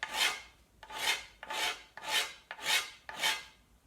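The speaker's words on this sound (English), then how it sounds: "just work it with the rasp" A hand rasp files a laminated wooden recurve bow in six slow, even rasping strokes, each a rough scraping swell with short pauses between, close and fairly quiet, with no voices.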